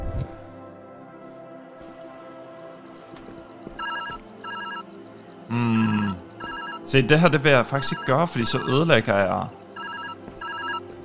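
A telephone rings in the puzzle video game Viewfinder: a repeating electronic ring in regular pairs of pulses, steady and moderately loud, with someone talking over it.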